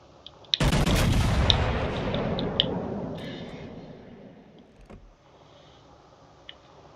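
A single heavy salvo from an American warship's main guns in World of Warships Legends booms loud and close, then rolls away over several seconds, followed by faint mechanical clunks, with no voices.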